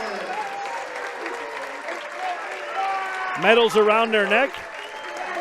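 Basketball fans applaud in a steady crowd wash during a standing ovation, moderately distant and continuous beneath an announcer's commentary that grows louder near the end.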